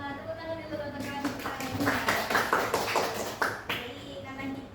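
A group of students claps in a classroom, a brief burst of dense, close claps that rises and fades over a few seconds, with some talking underneath.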